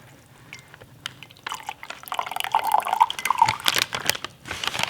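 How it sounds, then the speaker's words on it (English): Steaming hot liquid poured gently from a vegetarian military MRE pouch that is eight years old, making a soft trickling and dripping sound that grows steadier and a little louder partway through. "When you're pouring it out, you can just pour it out real gently like so."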